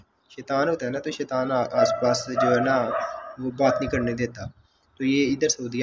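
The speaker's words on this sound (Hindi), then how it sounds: "अब मैं वीडियो बनाने लगा था तो साथ ही इसने भौंकना शुरू कर दिया" A dog barks nearby in short bursts, mixed in under someone talking steadily in the foreground.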